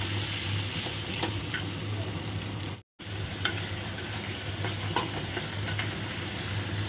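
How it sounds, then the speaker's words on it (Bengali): Spice paste of Kashmiri chilli, turmeric and salt mixed with water sizzles with corn and cabbage in a pan, a steady fry broken by the scrape and clink of stirring, with a brief dropout near the middle and no talk. "দিয়ে ভালো করে আগে এটা কষাতে হবে"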